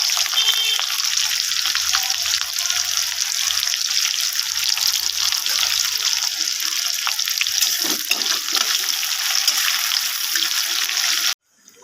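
Onions and green chili frying in a pan with garlic, a steady close hiss and crackle of sizzling oil running unbroken for most of the stretch before cutting off abruptly near the end.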